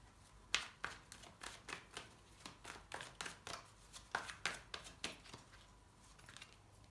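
Tarot cards shuffled by hand in a quiet room, a steady run of crisp riffling flicks and slaps repeating about twice a second, close and fairly soft.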